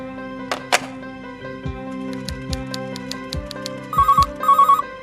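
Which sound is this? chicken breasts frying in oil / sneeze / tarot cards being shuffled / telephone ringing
telephone ringing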